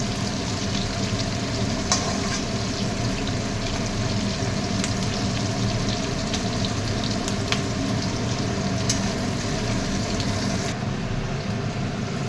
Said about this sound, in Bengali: পেঁয়াজটা বেশি ভাজবো না, পেঁয়াজটা হাফ ভাজবো